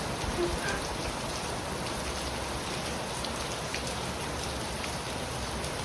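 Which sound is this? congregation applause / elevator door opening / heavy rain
heavy rain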